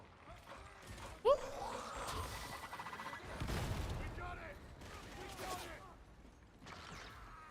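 Enemy gunners firing in the video game Darktide, with bursts of rattling gunfire and mechanical clatter that come and go over several seconds, heard under scattered player chatter.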